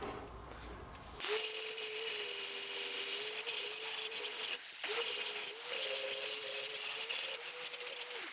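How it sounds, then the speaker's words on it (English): A power grinder cuts the tip off a steel framing square with a steady, loud, whining roar that starts abruptly, drops out briefly midway, then resumes. No one speaks. "I'm just going to go ahead and grind the tip of this off."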